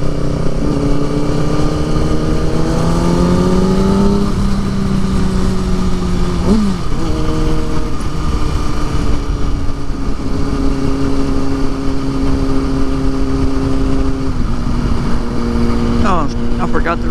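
A motorcycle on a ride in good weather, its engine drone steady and close with rising and falling pitch as gears shift, wind noise throughout, and a rider talking over it.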